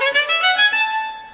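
Violin passage bowed spiccato: a quick run of about six short bounced notes, close and clear, ending on a held ringing note that decays, with no talking.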